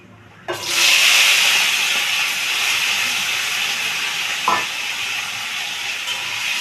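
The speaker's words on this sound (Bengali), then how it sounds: "এবার দিচ্ছি আলু" Potatoes hit hot oil in a pan for a prawn and banana-flower dish, setting off a sharp, loud sizzle that rises at once and then holds as a steady close hiss, with a light knock from stirring partway through.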